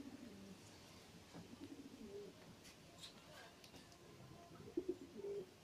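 Pigeons in a racing loft coo in soft, repeated low calls, with a few louder coos near the end, over faint background noise and distant voices.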